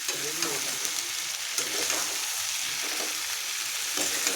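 Capsicum, carrot, potato and cauliflower sauté in a pan with a steady dense sizzle and faint scraping of stirring throughout, close and continuous with no talk.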